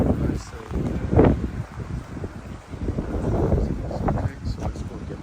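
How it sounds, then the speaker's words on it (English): Strong wind on a rainy roadside buffets the microphone in uneven rumbling gusts, loud and close, with a voice speaking briefly through it. "It's windy"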